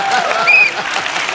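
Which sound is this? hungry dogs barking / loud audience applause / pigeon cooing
loud audience applause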